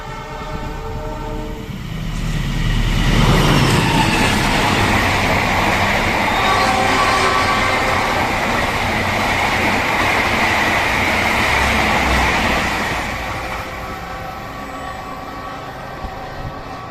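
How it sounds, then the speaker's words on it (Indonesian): Bima passenger train of Indonesian railways passing near Sepanjang station, the rumble building quickly to a loud steady roar with horn tones and wheel clatter for about ten seconds, then receding, with no talk. "bisa dilihat kereta api Bima akan melintas teman-teman"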